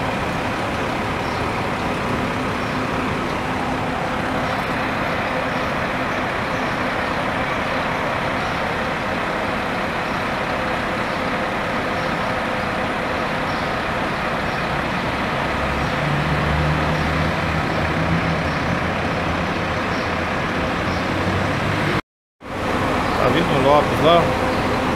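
A white-painted Anivale bus passes on a road in Ipatinga, Brazil, its engine a steady, fairly loud rumble mixed with road noise that lasts about twenty seconds, then breaks off briefly, with talking throughout.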